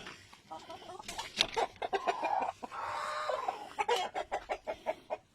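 Rhode Island Red and Black Australorp breeder chickens on a farm in Pangasinan cluck in a close, busy series of sharp calls, with a brief steadier squawk in the middle.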